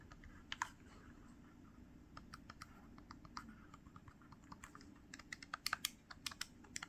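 D-pad and buttons being pressed on an R28s retro handheld, a quiet, soft run of close clicks and taps that grows denser and quicker toward the end.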